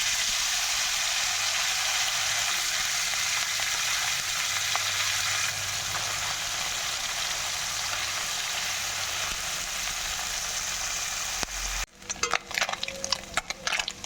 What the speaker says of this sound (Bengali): এখন মাছগুলোকে ভেজে নেবো